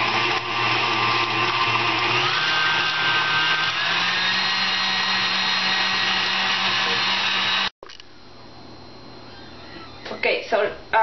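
An electric mixer whirs at high speed through almond cheesecake batter made with almond liqueur, a steady loud motor hum that holds for most of the stretch, then cuts off abruptly near the end, leaving quiet kitchen clatter.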